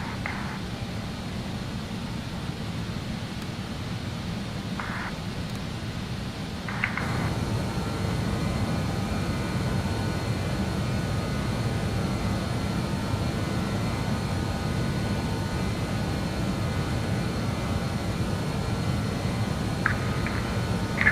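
An Avro RJ70 jet in Microsoft Flight Simulator 2020 holds a steady, loud engine drone and whine, rising a step in level partway through, with a few brief clicks over the continuous hum.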